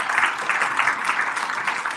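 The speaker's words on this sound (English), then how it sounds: "I want you to give yourselves a round of applause." An audience at a motivational church-style gathering claps in a sustained burst of applause, dense and fairly close, with no clear voices over it.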